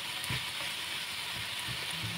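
Giniling (ground pork) frying in a pan while it is stirred and broken apart, a steady hiss of sizzling with intermittent scrapes and clatters of the utensil.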